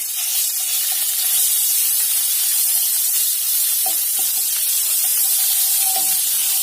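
Ginger garlic paste sizzling in a hot pan with turmeric, a steady bright hiss and crackle with a few small pops and scrapes, close and continuous throughout.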